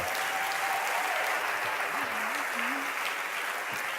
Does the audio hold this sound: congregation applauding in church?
yes